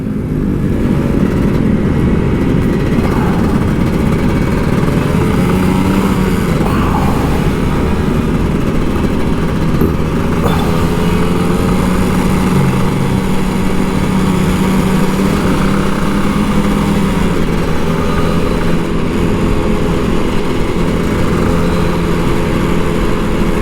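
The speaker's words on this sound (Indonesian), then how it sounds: "rame banget kan motor." Steady engine drone while riding a Kawasaki Ninja RR 150 motorcycle through busy morning motorcycle traffic, a continuous loud buzz with other bikes passing nearby and no talk.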